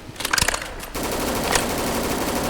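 An HK gun firing in the Roblox zombie shooter Deadfront: a few sharp shots, then a loud, sustained stream of rapid automatic fire that continues without pause.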